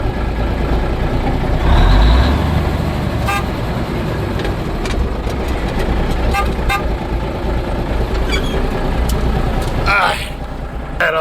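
A 1978 Oshkosh truck engine idles with a heavy, steady rumble, punctuated by a short horn-like toot and occasional clanks; voices speak briefly over it.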